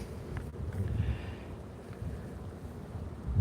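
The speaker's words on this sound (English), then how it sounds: "I had some buildings giving me a reprieve from the wind" Wind rushes outdoors among campus buildings, a low steady buffeting roar with gusty swells, close to the microphone.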